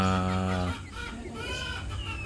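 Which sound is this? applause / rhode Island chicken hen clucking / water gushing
rhode Island chicken hen clucking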